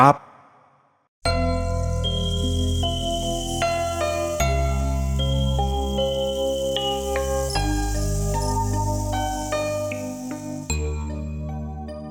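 A bright notification-bell chime plays in a string of ringing, overlapping ding tones over about eleven seconds, loud and clear with no talk over it.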